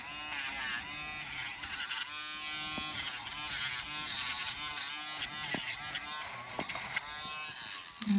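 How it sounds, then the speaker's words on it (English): A Dremel rotary tool buzzes steadily while softening the tips of a dog's nails during a natural-style grooming session, a close, continuous whine lasting throughout with a few brief clicks. "Now I'm gonna turn on my Dremel. I'm just gonna soften those tips."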